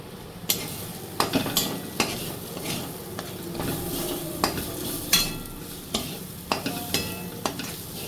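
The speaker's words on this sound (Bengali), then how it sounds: "আমি মশলাটাকে ভালো করে সাথে মিশিয়ে নেব। মশলাটা আমার একদম কষে গেছে, তেলও ছেড়ে গেছে।" A spatula stirs a fried spice paste, its oil released, in a pan for a pointed gourd and prawn dish, with repeated sharp scraping knocks over a continuous close sizzle and no talk.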